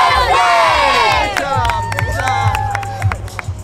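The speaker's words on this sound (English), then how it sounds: "You gotta scream and you gotta be loud and have energy, right?" A group of girls screams loudly together in unison, a sustained, energetic shrill cry that trails into scattered shouts.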